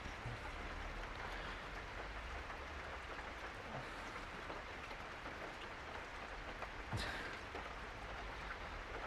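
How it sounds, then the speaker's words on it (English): Rain falling steadily in a dense, even hiss that fills the whole stretch without pause, with one brief sharp tap near the end. "Rain adds to the atmosphere"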